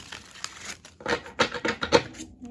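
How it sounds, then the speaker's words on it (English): Crisp papery riffling bursts of a tarot deck being shuffled, a few soft ones then a denser flurry of rapid card flicks, close and fairly quiet. "One more good shuffle."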